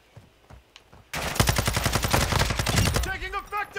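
Rapid automatic gunfire in Call of Duty: Modern Warfare 2 team deathmatch on Shoot House, loud bursts of closely spaced shots after a quiet start, with a few sharper single reports trailing at the end.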